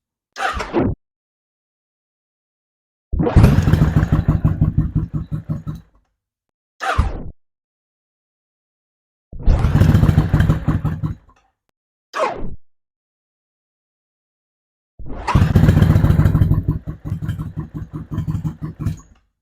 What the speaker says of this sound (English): I'm just going to start the bike as is, no choke, so I don't think it's going to stay on.